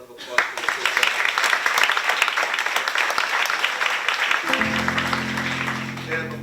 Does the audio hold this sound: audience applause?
yes